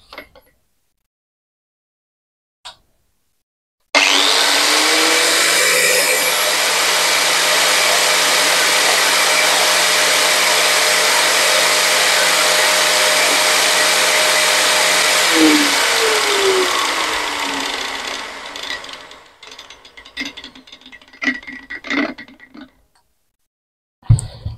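A Benz Werkz BZ-8610 4-inch angle grinder runs with no load: a loud, steady high-pitched whine starts abruptly, holds evenly for about twelve seconds, then winds down as the motor coasts to a stop, followed by scattered handling clicks.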